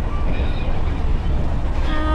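Inside a moving passenger train with upper berths, a loud continuous low rumble and rattle of the carriage fills the short stretch, with faint tonal whines above.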